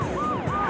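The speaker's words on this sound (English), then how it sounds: "Is that a police car now?" A police car siren wails in London during a chase, its rising and falling tone sweeping twice over steady road noise, clear and fairly close.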